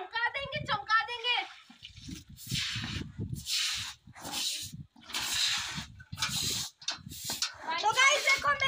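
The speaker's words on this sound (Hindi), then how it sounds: "तो गाइस अब हम यहाँ पे टेरेस धुलाई कर रहे हैं इधर पानी डाल डाल के।" Water is poured from a container onto a terrace floor during washing, splashing in repeated rough bursts with short gaps, while people talk at the start and end.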